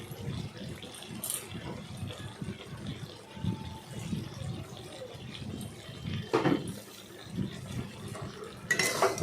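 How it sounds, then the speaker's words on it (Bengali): A spoon or spatula stirs soybean curry in a pan, making soft repeated scraping and clinking against the metal. The sound stays low and close, with a couple of sharper knocks. "এবার সেগুলোকে ভালোভাবে নাড়াচাড়া করলাম।"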